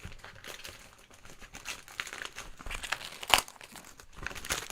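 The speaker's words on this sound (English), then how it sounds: "So, let's unwrap it." A Secret Santa gift package is unwrapped up close, with bursts of crinkling and crumpling paper and a few sharp tearing rips, fairly quiet, and nobody speaks.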